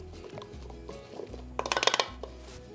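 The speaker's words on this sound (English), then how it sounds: "I'm literally just gonna take a wooden spoon and stir it" Flour dough for an overnight focaccia is stirred in a bowl with a wooden spoon, giving soft scraping and a quick run of rhythmic knocks and clinks against the bowl, close and fairly quiet.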